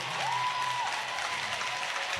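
A church congregation applauds with dense, steady clapping that fills the room, joined by a brief rising vocal tone at the start.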